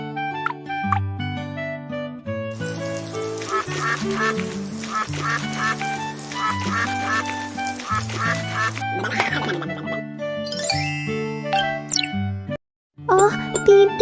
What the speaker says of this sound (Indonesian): Bebek itu terlihat sangat kotor.